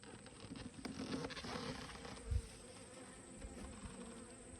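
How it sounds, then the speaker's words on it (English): Honey bees buzzing in a beehive, a steady, dense drone of many insects heard close up, continuous throughout with a brief low thump partway through. "Bunch of baby bees right there."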